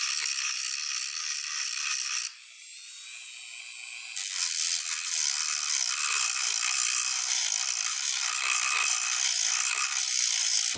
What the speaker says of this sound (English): Little Dremel tool action.